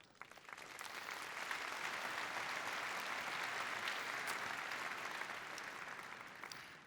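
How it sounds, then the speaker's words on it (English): A large keynote audience claps in a dense, sustained burst of applause that swells, holds steady and then tapers off toward the end. "Big applause to all of you."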